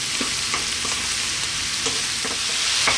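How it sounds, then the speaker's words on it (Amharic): Mushrooms fry in a pan with oregano, black pepper, salt and fresh chili, giving a dense, even sizzle with a few soft stirring clicks, close and without talk. "ከዛ ይሄንን ለ5 ደቂቃ እንጠብሳለን ማለት ነው ከመሽሩሙ ጋር በደንብ አድርገን"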